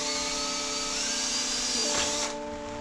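A power drill bores a hole in a Honda motorcycle part, a steady high whining drone that shifts pitch as the bit bites through, then cuts off abruptly.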